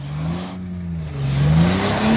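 A car engine revs up steadily as the car accelerates, its pitch rising smoothly and loud throughout.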